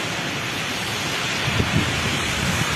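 A pressure washer hose spraying water in a warehouse, a loud continuous hiss of the jet with a few dull thuds and splashes toward the end.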